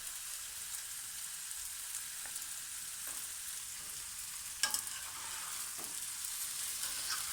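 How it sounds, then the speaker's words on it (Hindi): Steady sizzle of kofta noodles frying in a pan while being stirred, with a few brief scrapes and clatters, constant and moderately quiet. "नूडल्स को अब हम इसमें मिला देंगे अच्छी तरह से"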